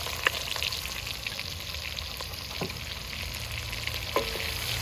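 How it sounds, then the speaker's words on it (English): Pork belly fat sizzling and frying in a hot pot while a spoon stirs it, a steady close crackle with a few sharp scrape clicks from the utensil, no talking. "So that goes right in the hot pot. And we're gonna stir it."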